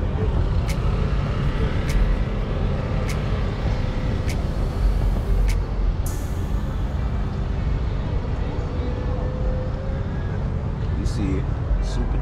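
A supercharged car engine idles and runs with a steady low rumble at close range, and a few sharp ticks and clicks sit on top of it.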